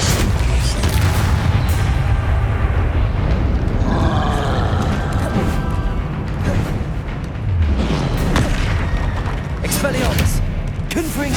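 Fire and blast spells cast in combat in Hogwarts Legacy, a dense, loud run of booming blasts and rumbling impacts under shouted spell names.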